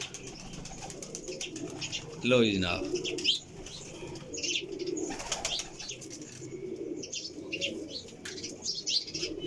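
Pigeons coo softly in a loft setup, with a short burst of wing flapping partway through and scattered chirps from baby pigeons, as someone speaks briefly over them.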